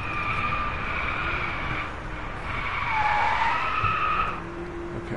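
A Volkswagen Beetle in the video game Driveclub skids under hard braking, tires squealing in long high wails that rise and fade over several seconds above a steady engine rumble.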